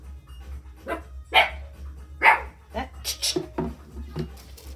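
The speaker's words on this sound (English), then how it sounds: "My little guys, they start their barking." Small dogs barking indoors: several short, sharp yaps at moderate distance over a low steady hum, with some panting and softer yips between them.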